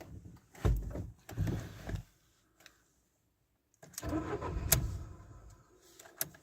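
A car engine cranks briefly, falls quiet for a moment, then catches and runs with a rough, uneven idle close by.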